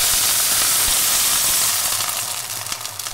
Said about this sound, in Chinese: 现在应该可以加水了。